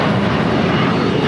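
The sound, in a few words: Airbus A350-1000 airliner taxiing at LAX airport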